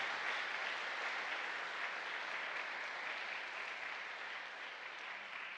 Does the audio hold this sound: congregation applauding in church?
yes